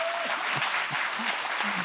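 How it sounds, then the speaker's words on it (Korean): An audience at a school talk concert on the high school credit system applauds warmly, a dense, even wash of clapping throughout, with faint voices underneath. "여러분이 감동하신 만큼만 박수를 보내주십시오"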